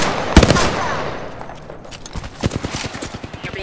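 Gunfire in an Apex Legends match starts as a sharp loud shot, followed by scattered rapid bursts of shots that rise again near the end, with game sounds underneath.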